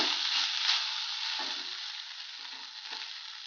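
Capsicum rice being mixed in a pan, with sautéed capsicum and cooked rice stirred together over heat, giving a steady close sizzle and soft scraping throughout, with no talking.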